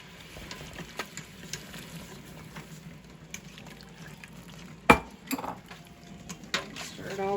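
Sugar is stirred into dandelion jelly in a kitchen pot, a spoon clinking and scraping against the metal with one sharp knock and scattered taps, faint background bustle underneath.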